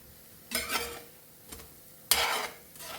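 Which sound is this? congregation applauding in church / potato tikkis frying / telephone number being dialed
potato tikkis frying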